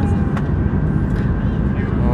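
Steady broadband cabin roar of an airliner in flight fills the space continuously, with people talking over the engine drone.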